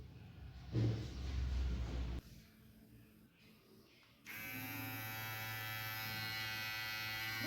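An IKON T1207 electric trimmer switched on, first a brief muffled handling noise, then a steady close electric buzzing hum that starts abruptly and runs evenly to the end.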